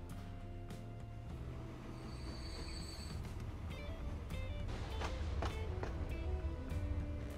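A full train rolls along in the Transport Fever 2 game, a steady rumble of rail noise with wheel squeal and clanks building slightly louder toward the end, heard alone without talk.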